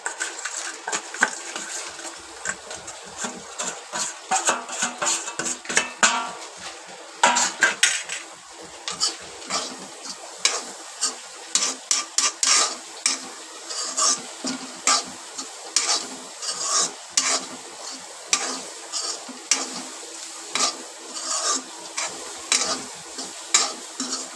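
Jaggery is stirred into a pan for a modak filling, a spoon scraping and clinking against the metal pan in repeated uneven strokes, close and clear over a faint sizzle.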